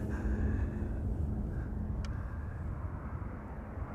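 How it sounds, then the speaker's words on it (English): A Boeing Dreamliner airliner arriving at Amsterdam Schiphol from Cancun, Mexico produces a low, steady engine rumble with a faint whine, slowly fading, and a brief sharp click near the middle. "To Dreamliner arriving from Cancun in Mexico."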